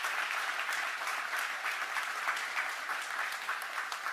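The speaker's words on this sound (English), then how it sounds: "Give them a round of applause." Sustained audience applause at a graduation ceremony honoring HR staff, a dense, steady wash of many hands clapping throughout without a break.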